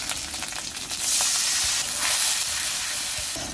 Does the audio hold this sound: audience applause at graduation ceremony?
no